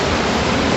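Loud water rushing and splashing on a log flume ride at a theme park: a dense, roaring wash of spray, constant and close, with no voices.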